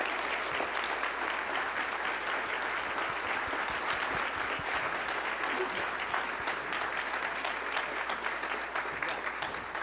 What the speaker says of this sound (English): one more time, a big round of applause.